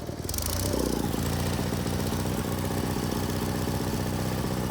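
Old 1978 Sears GT18 lawn tractor engine, pulled from years of barn storage, running steadily on partial choke with a loud, close, continuous throbbing idle and no talk.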